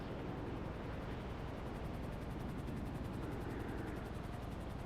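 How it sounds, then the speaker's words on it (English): Helicopter in the video game GTA Online passing overhead, a steady loud rotor roar with fast rhythmic blade chop, continuous and close. "That was funny timing on the helicopter."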